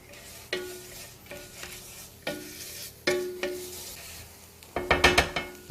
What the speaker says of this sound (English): So just mush that around so the lemongrass and all the other bits and pieces are just making a paste there.